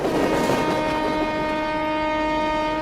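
A train pulls into a platform, sounding a long, loud, steady horn over the rumble of the rail cars, used as a sound effect in an audio drama.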